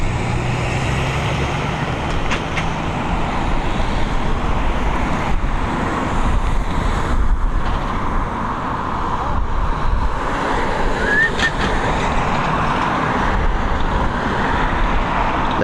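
An American Airlines Boeing 787-9 Dreamliner takes off at Dublin Airport, heard as a broad, continuous distant jet roar blended with road traffic noise, swelling and fading gently.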